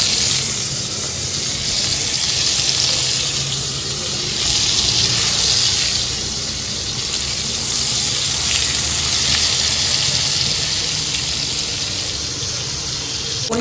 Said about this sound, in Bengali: এখন হবে বেগুন ভাজা।